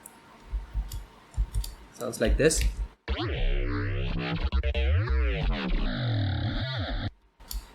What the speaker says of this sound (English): And then I made some bass sounds and stuff like that